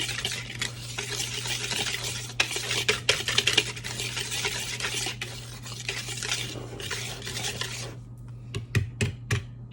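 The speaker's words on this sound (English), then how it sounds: "And then we mix it all together. So you see the cinnamon getting incorporated into the flour." Cinnamon being mixed into flour for cinnamon raisin bread, a continuous dry scraping and stirring rustle that stops near the end, followed by a few sharp taps against the bowl, over a low steady hum.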